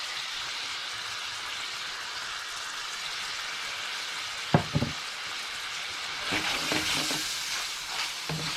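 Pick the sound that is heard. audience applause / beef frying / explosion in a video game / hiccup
beef frying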